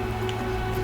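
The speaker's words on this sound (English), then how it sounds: "Yeah, this is the rain." Steady rain hissing and pattering across a surface in a sim racing video game, an even, continuous wash of sound with no voices.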